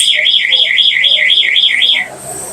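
A Honda Navi motorcycle's aftermarket alarm, triggered from its remote, wails in a fast rising-and-falling electronic warble, loud and close, then cuts off abruptly near the end.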